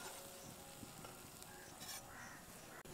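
Malpua batter frying in hot oil over lowered heat, a steady close sizzle with soft crackling throughout.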